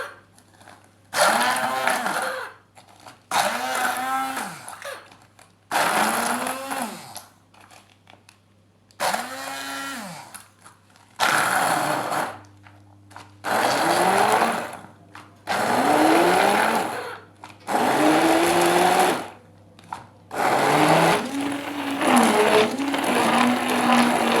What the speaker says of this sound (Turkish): Önce temizlemiş olduğum narımı blenderımdan geçireceğim suyunun çıkması için.